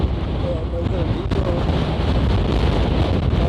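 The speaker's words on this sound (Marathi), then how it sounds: "वारा बिरा भरपूर येईल आणि एकदम थंड वारा मस्त." Steady, strong cold wind at Naneghat mountain pass roars and buffets the microphone throughout, a dense continuous rush with no breaks.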